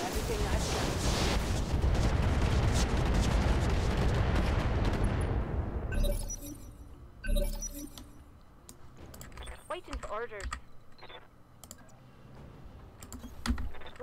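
In the tactical game Roguepoint, a loud roar of gunfire and artillery fills the first half, then fades into sparse sharp shots and clicks with quiet keyboard and mouse sounds in between.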